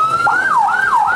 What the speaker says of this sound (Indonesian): Siswa dievakuasi dengan menggunakan ambulan ke Rumah Sakit Cibabat.